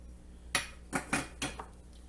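A utensil mixing baking soda and salt into flour in a bowl for pumpkin cheesecake bread makes four or five distinct clinks and scrapes against the bowl, close and moderately loud, with quiet pauses between strokes.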